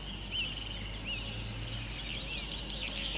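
Woodland kingfisher calling in Kruger National Park, a few short high trilling phrases repeated across a few seconds, fairly distant over a steady low background hum.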